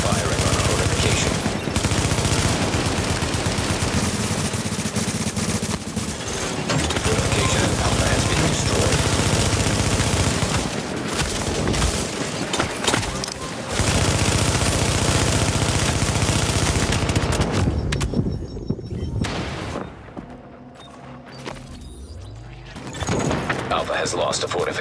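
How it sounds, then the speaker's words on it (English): Near-constant bursts of automatic gunfire and explosions pound away as hostiles fire on a fortification in the video game Last Stand, loud and dense, with voices over the top and a brief lull near the end. "Hostiles are firing on a fortification."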